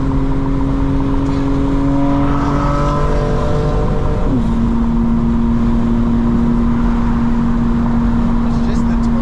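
A 900 hp 2025 BMW M4 Competition xDrive drones steadily from inside the cabin while driving, one loud continuous engine tone that shifts pitch once midway, with voices faint underneath.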